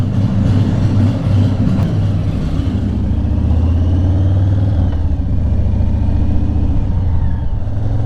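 A heavily loaded motorcycle rides along the road with a steady, loud engine drone and wind and road rush, rising slightly in pitch as it accelerates.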